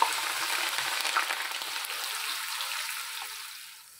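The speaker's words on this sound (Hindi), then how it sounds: "प्याज को लाइट ब्राउन कर लेंगे" A large onion frying in about one and a half cups of oil for mutton nihari, giving a steady, close broadband sizzle that holds throughout and gradually softens toward the end, with no voices.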